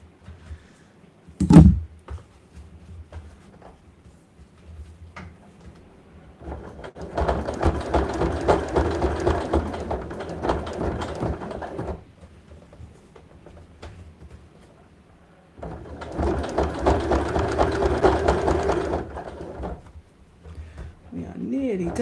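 A domestic sewing machine stitches a fabric side pouch in two sustained bursts of fast, rhythmic whirring, each several seconds long, separated by quieter pauses with a sharp click near the start.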